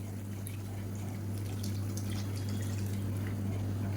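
Soft, continuous pouring of ragi batter with gentle stirring, fairly quiet, over a steady low hum with no one speaking.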